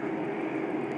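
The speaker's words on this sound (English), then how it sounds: "I would say they're tour helicopters, Sandy." A steady, broad engine drone of tour helicopters overhead in Lower Manhattan, continuous and moderately loud, with no voices.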